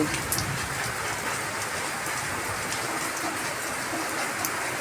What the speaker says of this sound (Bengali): বৃষ্টি নেমে গেছে একদম জোরে, মেঘও ডাকছে